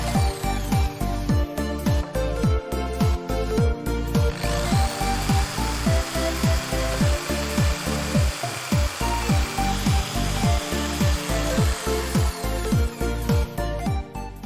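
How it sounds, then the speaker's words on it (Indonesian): A power saw cuts timber for circular stair formwork, its motor whining loudly and close, with a steady rhythm of repeated back-and-forth strokes through the wood. "Tetap fokus dan berhati-hati dalam menggunakan gergaji mesin. Potonglah bolak-balik sesuai garis yang kita gambar."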